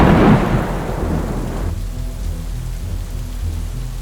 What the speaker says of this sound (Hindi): साल 1987 जनवरी की उस रात को धर्मापुर में जोरों की बारिश हो रही थी।